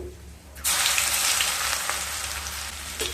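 Two dry red chillies and half a spoon of five-spice seeds hit hot oil for a Bengali fish curry, bursting into a loud, steady sizzle that starts abruptly and holds close and bright.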